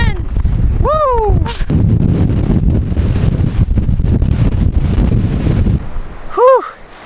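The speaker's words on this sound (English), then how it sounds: "we don't understand why there's so much wind in the laguna, in the crater" Strong wind roars and buffets the microphone inside a volcanic crater lagoon high on Ecuador's volcano avenue. The gusts are loud and steady, and a person lets out short whooping calls near the start and near the end.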